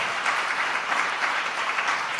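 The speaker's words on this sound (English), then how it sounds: "Can we give the panelists a round of applause?" Brief, steady applause from a conference audience for a panel on AI for community health systems, moderately loud and even, with no talk over it.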